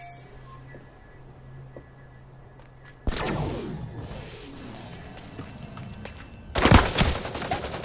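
Gunfire in the video game Kidou Toshi X: after a quiet stretch, a sudden volley of shots breaks out, then a second louder burst follows a few seconds later, with clinking, metallic debris around the shots.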